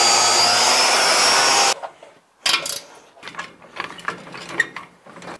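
An angle grinder with a quick strip disc removing paint and rust from a metal jon boat whines loudly and steadily for nearly two seconds, then cuts off, followed by quieter clanks and handling noises.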